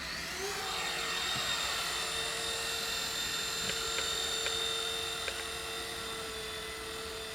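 A small Syma F3 fixed-pitch remote-control helicopter hovers steadily nearby, its motor and rotor giving a constant high whine with a few faint clicks, and no talking.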